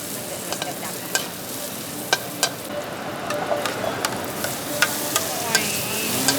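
Octopus and omelette stir-frying in a hot pan at a Thai street food stall, a constant loud sizzle broken by repeated sharp clanks and scrapes of a spatula against the pan.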